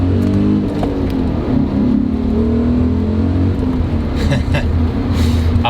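A BMW M5 engine revs up and pulls away hard from a standstill, its loud drone climbing in pitch, with a voice speaking over it.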